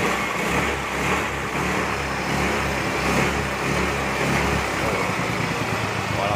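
A Yamaha Mio motorcycle engine revs under throttle, a close, continuous buzzing drone that rises and falls slightly with the throttle.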